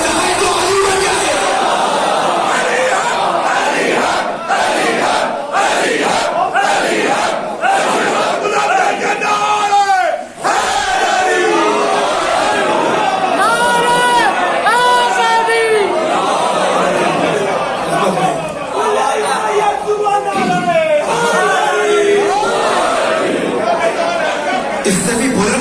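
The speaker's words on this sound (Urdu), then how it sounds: "بھائی جوش آتا ہے علی والوں کو, کھڑے ہوتے ہیں, نعرہ لگاتے ہیں, ان کے ہاتھ بلند رہتے ہیں" A large crowd at a religious sermon chants slogans in loud, rising waves of massed voices, with shouts and cheers swelling and falling continuously throughout.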